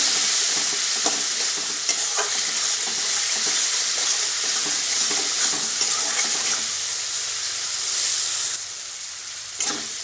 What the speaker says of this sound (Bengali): এবার পরিমাণ মতো লবণ দিয়ে দেবো দিয়ে আর একটু কষিয়ে নেব